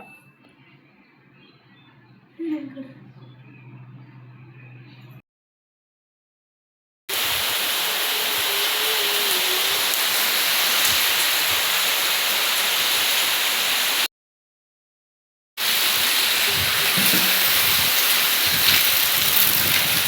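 Heavy rain pours down as a loud, steady, hissing wash that fills long stretches, broken by short silent gaps, after a quieter opening.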